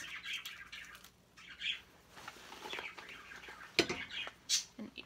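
Small pet birds chirp and squawk in scattered bursts, quiet and close, with rustling and short sharp calls between them.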